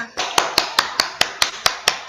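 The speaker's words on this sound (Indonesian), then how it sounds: "Tepuk tangan untuk semua." Schoolchildren in a classroom clap together for their classmates at a teacher's prompt. The claps are sharp, unison and evenly paced, about five per second, over a busy room murmur.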